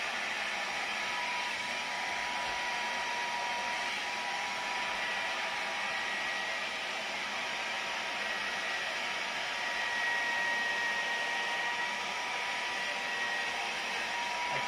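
A hair dryer blows steadily for the whole stretch, a constant, fairly close whooshing hiss used to heat bed bugs, with no voices over it.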